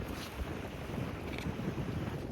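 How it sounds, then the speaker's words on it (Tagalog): Strong wind buffets the microphone in a continuous, loud roar with gusty low thumps throughout, at Pruden's Point Resort, Saskatchewan, Canada. "Malakas na yung hangin"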